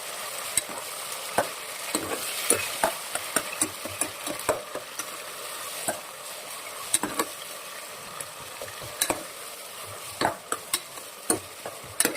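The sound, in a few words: frying chopped onion, tomato and chili in oil for palav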